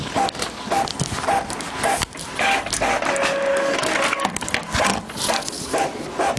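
An Epson L3150 inkjet printer printing nearby, with a loud continuous mechanical whir, rattling feed clatter and a brief tonal whine midway, steady throughout with no talking.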